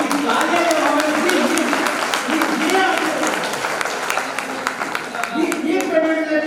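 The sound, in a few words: audience applause at a poetry event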